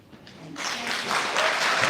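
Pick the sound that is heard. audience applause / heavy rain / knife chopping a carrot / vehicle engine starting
audience applause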